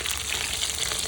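Parse fish frying in hot oil gives a steady, close, dense sizzle that holds at an even loudness throughout, with no voices.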